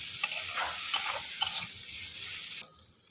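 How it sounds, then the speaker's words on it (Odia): Masala for prawn Maggi sizzling in a pan as a spoon stirs it, scraping strokes in a quick rhythm over a bright hiss before the sound drops off abruptly near the end. "ଏବେ 1-2 ମିନିଟ୍ ପାଇଁ ଆଉ ଟିକେ ଭାଜିବା"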